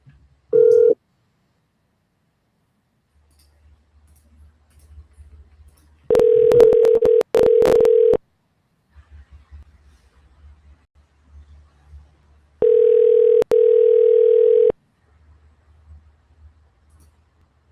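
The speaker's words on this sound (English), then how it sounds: "Let me call this mobile number" A telephone call to a mobile number, with short steady tone bursts and longer sustained dial tones separated by quiet stretches and faint low rumbling, loud and clear with no talking.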